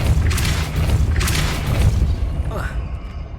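A Depulso force spell goes off in the Hogwarts Legacy game as two or three deep, thudding blasts in quick succession. A faint rising whoosh follows as they fade.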